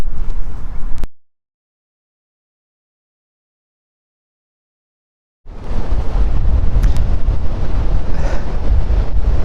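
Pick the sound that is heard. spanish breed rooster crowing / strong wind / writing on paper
strong wind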